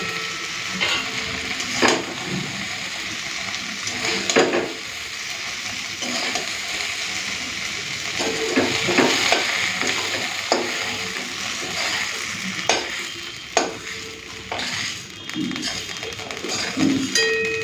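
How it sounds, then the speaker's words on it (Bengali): Okra fries with five-spice in a wok, a steady sizzle punctuated by repeated scraping and tapping of a spatula against the metal, close and moderately loud. "পাঁচফোড়ন দিয়ে ঢেঁড়স ভাজা হয়ে গেছে"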